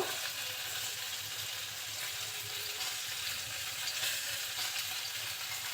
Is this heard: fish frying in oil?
yes